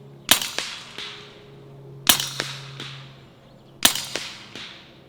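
Rifle shots fired at targets 100 yards away with Zans ammunition: three sharp, loud cracks spaced about 1.7 seconds apart, each trailing off in a short echo, with a faint hum between shots.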